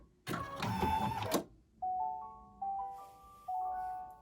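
A home embroidery machine finishes sewing with a short burst of mechanical whirring and stitching. A series of clear electronic beeps follows, spaced about a second apart, close and alone.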